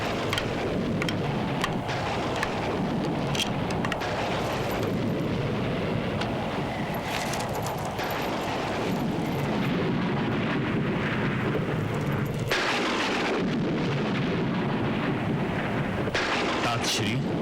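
Thunderstorm at night with steady heavy rain and deep rumbling thunder, a dense continuous roar with louder swells of thunder throughout, no voices.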